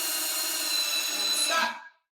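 A power drill drives a screw into a wooden pie stand base, one steady whirring run of about two seconds, close and fairly quiet, that ends abruptly as the screw seats.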